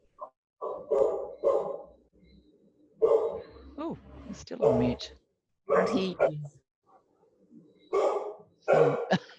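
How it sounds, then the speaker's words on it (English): A dog barks repeatedly in the background of an online video call, while people talk over the noise. "You can hear somebody's dog."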